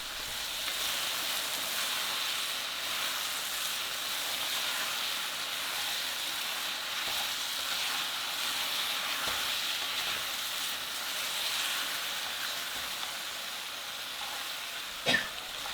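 Porcini mushrooms sautéing in a pan, a steady close sizzle and hiss holding level throughout, with a single sharp clink of a utensil near the end.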